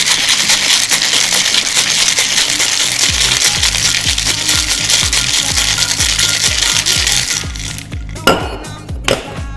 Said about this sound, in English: we are going to go ahead and shake. So grab the lid to your cocktail shaker or a glass.